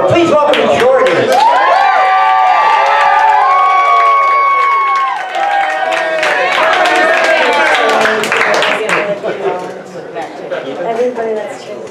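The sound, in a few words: audience cheering for a comedian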